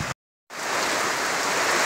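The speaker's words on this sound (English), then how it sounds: "it's starting to rain" Steady rain falls outdoors in West Tennessee during high winds, a dense even hiss that starts after a brief silent gap and then holds loud and continuous with no voices.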